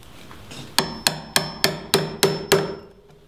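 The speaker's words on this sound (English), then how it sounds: "I think I'm going to lightly chisel out" A chisel is tapped lightly into a wooden Dutch door on a tiny house build: seven sharp, evenly spaced mallet strikes, close and ringing, each decaying quickly, with no talk.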